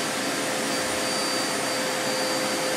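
Vacuum of a vacuum forming machine running: a loud, steady, unbroken roar with a whooshing hiss, heard alone.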